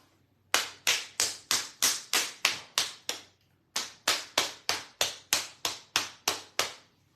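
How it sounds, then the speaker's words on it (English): A man claps his hands about nineteen times in two steady runs, sharp, close and evenly spaced, with a short pause between the runs and no voices. "he clapped like this"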